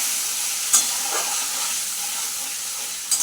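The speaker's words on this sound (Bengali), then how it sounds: "আমি মশলা কটা দিয়েছি তেলে, আর দইটাও দিয়ে দেবো একসঙ্গে, তেল ছাড়বে ওর সঙ্গে" Spices and yogurt frying in hot oil make a loud, close, steady hiss and sizzle, with a couple of brief clinks of the stirring utensil and no voices.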